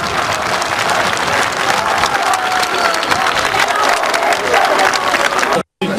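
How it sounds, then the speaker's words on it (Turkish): Large crowd at a martyr's funeral applauding loudly and continuously as the coffin is brought into a mosque courtyard, a dense steady roar of clapping that cuts off abruptly near the end. "Şehidin naaşı cami avlusuna getirildiğinde alkış tufanı koptu."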